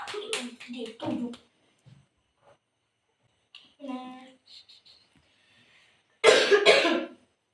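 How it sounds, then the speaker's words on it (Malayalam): A person coughing indoors at a birthday gathering: a cluster of coughs at the start and a louder burst near the end, separated by quiet stretches with faint voices. "ചുമയാണ്."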